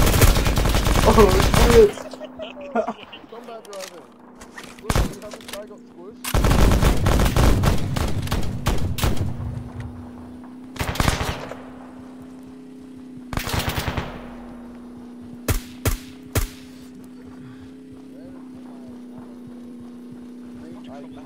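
Bursts of automatic and single-shot gunfire from the military shooter Arma 3, loud volleys coming in clusters with gaps between, over a steady engine-like drone, while players talk and exclaim.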